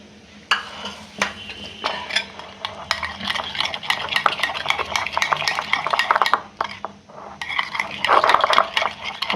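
Chili chicken ingredients are mixed in a pan with rapid, rhythmic clinks and scrapes of a metal utensil against the cookware, clattering steadily over a faint sizzle.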